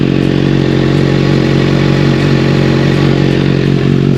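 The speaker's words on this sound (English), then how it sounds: "our motorcycle's been running for a while" A 2024 Kawasaki Ninja ZX-6R inline-four engine runs steadily at a loud, close, even idle, with a constant low drone and faint mechanical clatter throughout and no voices.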